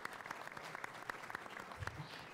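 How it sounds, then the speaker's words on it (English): Audience applause at a public information meeting on red tide, a quiet, fairly sparse spatter of clapping with distinct individual claps, heard from some distance. "So if you could, I hear that round of applause."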